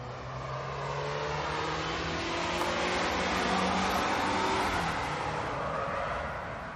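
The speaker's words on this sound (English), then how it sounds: "Here comes a car." A car speeds past close by, its engine and tire roar swelling to a loud peak midway and then fading away, with no voices.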